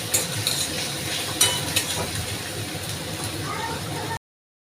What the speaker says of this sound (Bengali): তো মশলাটা আমি ভালোভাবে কষিয়ে দিচ্ছি